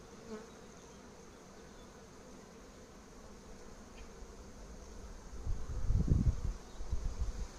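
Honeybees buzz softly at first at a hive entrance during hiving of a swarm, a quiet insect drone that swells louder and closer toward the end.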